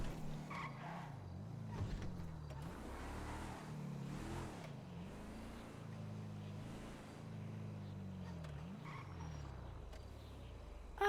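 Video game cars drive past with a wavering engine drone and intermittent tire skids, a steady moderate rumble throughout with no talking.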